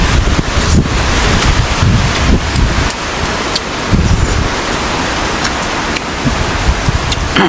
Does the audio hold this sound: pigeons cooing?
no